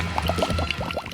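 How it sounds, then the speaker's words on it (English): Wet cement pours out in a miniature DIY road-building setup, giving a run of quick glugging, gurgling splashes of moderate loudness. "Pouring cement."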